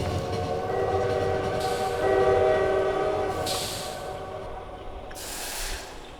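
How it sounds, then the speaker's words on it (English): A train rushes past in the video game Lobotomy Corporation, a steady loud rumble with sustained horn-like tones, fading slightly toward the end with bursts of hiss. "I forgot about the train!"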